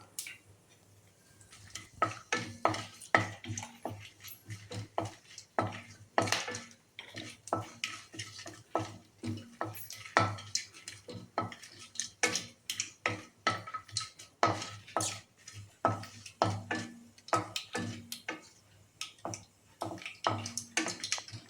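Crackling, popping sizzle of cloves and cardamom hitting hot oil with mustard seeds for capsicum rice, with scattered clinks of a metal spoon against the pan throughout.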